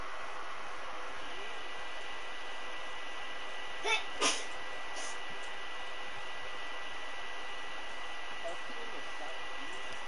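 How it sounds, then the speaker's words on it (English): A person sneezing during Fishing Planet walleye fishing gameplay, a couple of brief sneezes a few seconds apart over a steady humming drone, moderately close. "He sneezed again."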